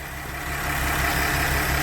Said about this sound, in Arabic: دورات الموتور مكانه.